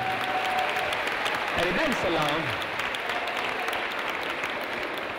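Audience applause at a French award ceremony for girls in aeronautics careers, a steady clapping crowd that runs throughout, with someone speaking briefly over it near the start.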